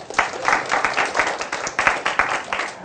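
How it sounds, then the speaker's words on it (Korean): A classroom of students applauds two classmates, steady clapping from many hands filling the room evenly for a few seconds, with no talk over it. "두 사람한테 우리 박수 한번 쳐줍시다"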